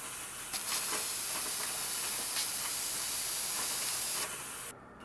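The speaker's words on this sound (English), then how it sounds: "and then just start to spray." A long, steady hiss of an aerosol spray paint can, close and loud, running for several seconds before abruptly cutting off.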